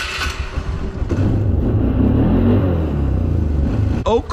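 A choked, carbureted Polaris Sportsman 500 ATV engine cranks and catches, then settles into a loud, steady low rumbling idle close by, ending with a few abrupt clunks.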